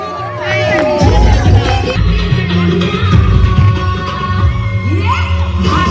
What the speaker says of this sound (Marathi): जोरदार वाजवूया या मेगा फायनलच्या मेगा क्वीन्स साठी जोरदार टाळ्या